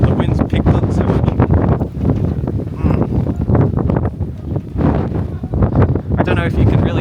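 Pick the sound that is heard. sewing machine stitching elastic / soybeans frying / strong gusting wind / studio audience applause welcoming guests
strong gusting wind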